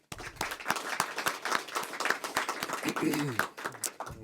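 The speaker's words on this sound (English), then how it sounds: "So a little round of applause for all of them." Audience applause for volunteers at a city honors night, a modest burst of clapping close by, with individual claps audible and a voice speaking briefly near the end.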